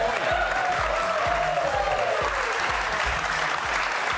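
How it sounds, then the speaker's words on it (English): A studio audience on a rugby league TV show claps loudly and continuously, a thick steady wash of applause with a faint voice briefly audible beneath it. "Get the applause going for Fletch and Heine"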